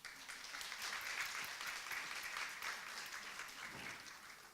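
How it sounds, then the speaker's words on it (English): Evening audience applauding a panel, a sustained, fairly soft wash of clapping from a crowd that swells slightly in the middle and stays steady. "please give a round of applause to our wonderful panel"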